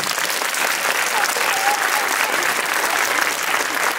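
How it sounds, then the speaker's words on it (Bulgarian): An audience at a school open day event in a Bulgarian vocational school applauds loudly and steadily, a dense wash of clapping that stays even throughout. "За Коцето силни аплодисменти."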